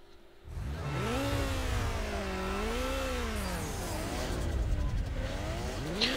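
A Golf race car in Need for Speed: Underground roars with its engine revving up and down in sweeping pitch swings, loud and continuous after a brief quiet start.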